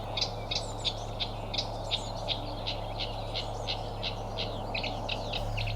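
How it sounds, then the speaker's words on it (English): Reed warbler calling from a reedbed, a steady run of chattering, scratchy notes repeated in quick rhythm at moderate distance over a constant low hum. "you're sure you found the piece of reedbed wall where the warbler is calling"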